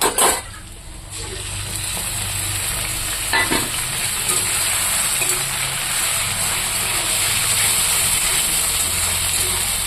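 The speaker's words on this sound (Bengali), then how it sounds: "মশলাটা আমি একটু ভেজে নেব" Ground spices hit a pan of browned onions and fry with a loud, continuous sizzle, opening with a clatter of utensils and followed by occasional stirring scrapes against the pan.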